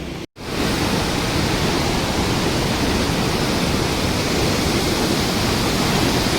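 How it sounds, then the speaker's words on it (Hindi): The broad Chenab river rushes loudly and continuously near Head Maralla, Sialkot, a steady full roar of flowing water with no voices. "माशाल्लाह बहुत बहुत बड़ा दरिया है, ये दरिया चनाब है।"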